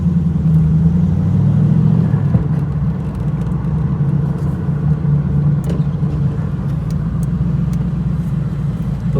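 Low, steady rumble of a TVR Chimaera sports car engine cruising on the road toward a fuel station, heard from inside the cabin, continuous and moderately loud with no speech.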